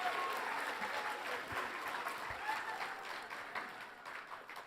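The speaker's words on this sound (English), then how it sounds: "Why don't you guys stand up and take a round of applause?" Sustained audience applause fills the hall at an awards ceremony for a media arts show, a dense, steady wash of many hands clapping that holds evenly and then eases slightly toward the end.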